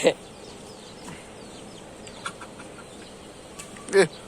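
A chicken beside a small village pond gives two short, fairly close clucks, one at the start and one near the end, over quiet outdoor background with faint voices.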